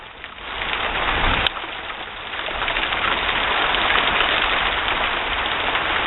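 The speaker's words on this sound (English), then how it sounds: "windy and raining." Steady, close rain in an unusual April thunderstorm, a dense continuous hiss of drops with wind, holding at an even level throughout with one brief sharp click near the start and no talk.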